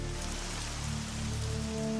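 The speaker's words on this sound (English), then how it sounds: "Liquid methane, it seems, rains down on Titan, or did at one time." Steady rain falling as liquid methane on Saturn's moon Titan, heard as a dense, continuous patter with a low rumbling undertone and no voices.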